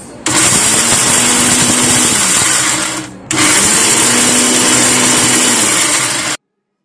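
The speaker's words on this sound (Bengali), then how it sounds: "এবার এই সমস্ত উপকরণ বেশ ভালোভাবে গ্রাইন্ড করে নিতে হবে।" An electric grinder whirs loudly as it pulverises spice ingredients, running in two long bursts of about three seconds each with a brief pause between, then cutting off to silence.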